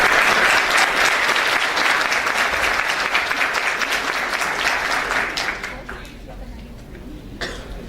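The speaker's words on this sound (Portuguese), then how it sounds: "Salva de palmas, por favor." Audience applause greeting a keynote speaker at a tech conference, loud and dense at first, then thinning and fading toward the end, with a cough near the close.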